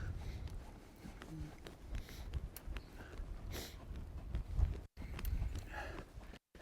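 A horse trots across open ground on a windy North Carolina day, its hooves giving faint, steady clip-clops buried under gusting wind noise.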